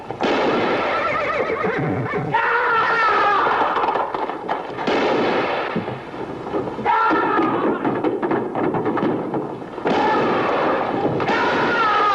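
A horse neighs loudly and repeatedly, shrill whinnies following one another with brief gaps, close and dominant throughout.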